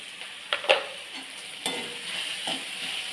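Okra being stirred with crushed peanuts in a pan, a spatula scraping in a few distinct strokes over a soft, steady sizzle, close by with no voices.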